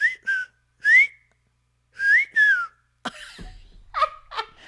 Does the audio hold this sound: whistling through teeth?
yes